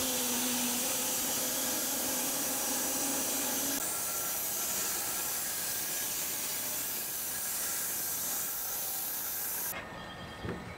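Bandsaw mill slabbing a big elm log, a loud, steady broadband hiss and whine of the blade in the cut running continuously and close, dropping off sharply near the end as the cut finishes.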